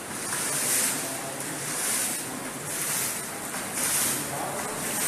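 Floodwater sloshes and surges through a flooded building, a broad continuous watery wash that swells and recedes in slow waves, loud and close, with no speech.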